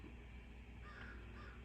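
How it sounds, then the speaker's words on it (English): Several crows caw outdoors on a winter day, faint and somewhat distant, over a steady low background hum with no talking. "There's a few crows out there."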